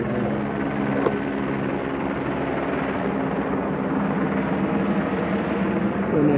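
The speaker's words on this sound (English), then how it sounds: "So we got a helicopter over here." A helicopter thrums steadily overhead in an industrial area at evening, a continuous broad rotor drone filling the scene at constant loudness.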